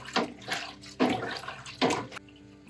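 Water runs through an immersion chiller during homebrewing, heard as three uneven close gushes and splashes separated by quieter trickling before it cuts off near the end.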